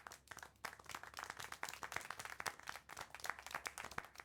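Steady, sharp clapping from what sounds like a single person or small group in the video game Syberia: The World Before, continuous and fairly close for the whole stretch, with no talk over it.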